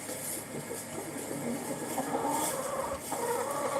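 Chickens clucking near a fence during a winter storm, a faint, scattered fowl chatter under steady wind-like noise outdoors.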